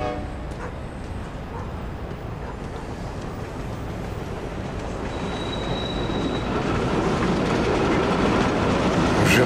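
A subway train in The Amazing Spider-Man 2 rumbles and clatters steadily, growing louder over time, with a thin squeal of wheels on the rails and no talking.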